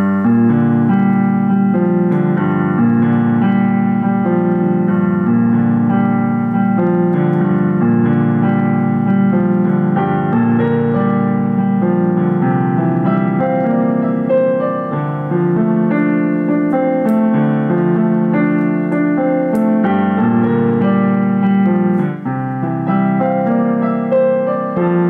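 A piano plays a song from La La Land in a slow, easy arrangement, sustained chords and melody notes ringing continuously and fairly loud, with no talking.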